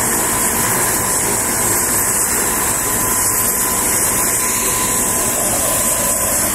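Helicopter turbine running at the Saltair base in Paihia, Bay of Islands: a loud, steady whining hum with a high hiss, unbroken for the whole stretch.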